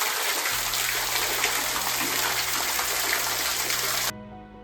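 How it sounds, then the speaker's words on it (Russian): A waterfall on Roraima tepui in Venezuela roars as a dense, steady broadband rush of falling water, loud and close, before cutting abruptly near the end. No voices are heard. "Вода отсюда уходит на одну из сторон горы и создает там водопад."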